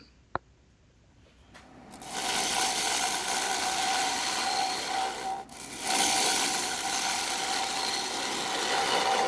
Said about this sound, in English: I'm trying a number of different approaches with the gouge here.